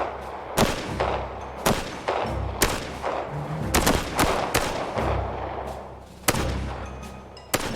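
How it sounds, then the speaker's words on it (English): Live rounds from a real weapon crack out at a firing range in a WW2 training setting, a series of loud, sharp shots spaced irregularly about a second apart, each with a short echoing tail. "The next step means taking to the firing range. Armed with real bullets."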